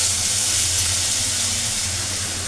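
Dried chillies, black cumin and fennel seeds sizzling in hot oil, a steady close, loud hiss without pause throughout.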